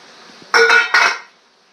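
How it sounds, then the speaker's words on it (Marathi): The metal lid of an idli steamer pot clanks twice in quick succession as it is lifted, with bright ringing metallic tones, close and loud, then quiet. "आता आपण इडली पात्राचं झाकण उघडत आहोत"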